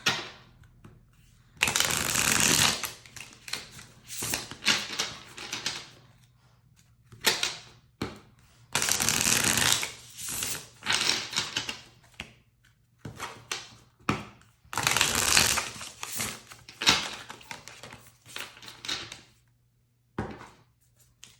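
Tarot cards being shuffled by hand in repeated riffling, slapping bursts separated by short pauses, close and fairly quiet, with no one talking.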